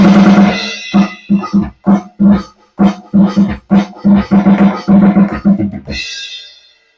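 Alesis Nitro Max electronic drum kit pads played with a groove of ghost notes, a quick run of soft, close taps and rolls in uneven clusters, ending with a brighter, sustained cymbal-like wash.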